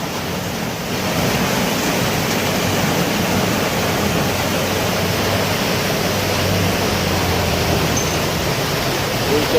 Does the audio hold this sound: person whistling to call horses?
no